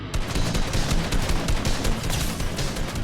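Pistol fire in Fortnite, a steady crackle of shots packed closely together and loud from start to finish, with no talking.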